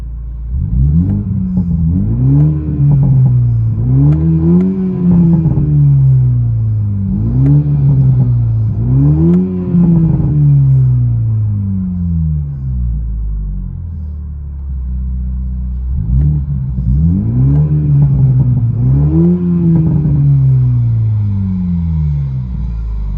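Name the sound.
Toyota Supra GR 3.0L I6 aftermarket exhaust revving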